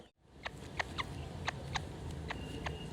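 Serama chickens, a small ornamental breed, give a series of short, sharp clucks and chirps at irregular intervals, fairly close, over a steady background hum.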